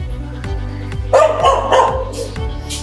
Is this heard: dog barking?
yes